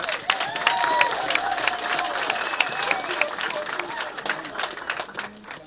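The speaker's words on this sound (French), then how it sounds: "Applaudis, ouais" Applause for a newly appointed transport minister, dense, steady clapping from a gathered group at moderate distance, with voices mixed in under the clapping throughout.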